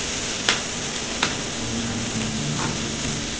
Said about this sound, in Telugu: లైట్గా వేగాలి అంతే